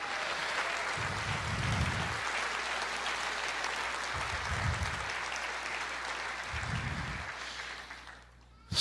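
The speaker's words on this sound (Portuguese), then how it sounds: "Você pode dar uma salva de palmas e dizer glória a Jesus?" Congregation applauding in a church service, a steady dense wash of clapping that fills the whole stretch at moderate level, with low rhythmic thumps recurring underneath, then cutting off abruptly near the end.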